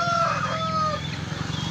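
A rooster crows once, loud and close, a rising and falling call over steady background noise at a home in a Tamil Nadu delta district, with no talking.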